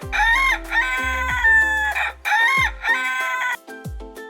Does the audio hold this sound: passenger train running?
no